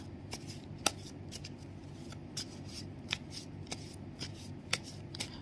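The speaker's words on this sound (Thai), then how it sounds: "เดี๋ยวฉันจะเปิดไพ่ต่อนะฮะ" Tarot cards being shuffled by hand ahead of a draw, a steady soft riffling with sharp snapping card flicks recurring every half second or so, close and fairly quiet over a low background rumble.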